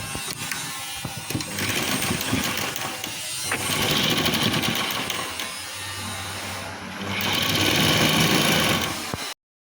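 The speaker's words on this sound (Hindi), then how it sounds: "अब हम इस पर सिलाई करेंगे।" Sewing machine stitching a fold of fabric for a work screen (sari border), a continuous rapid mechanical whirr running in long bursts with brief slowdowns, close and steady, no talk.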